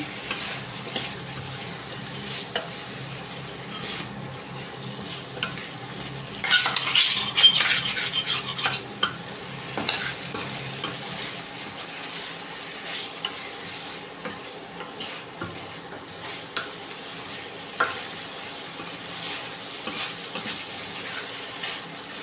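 Capsicum chicken being stirred and sautéed in a pan, with a steady close sizzle and scraping of a utensil against the pan, briefly louder in the middle and then settling into continuous frying.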